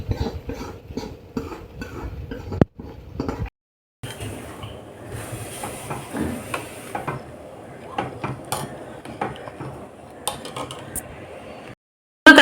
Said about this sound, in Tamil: இப்போது இது ஃப்ரை பண்ண தாளிப்பை பருப்பில் மிக்ஸ் பண்ணிக்கலாம்.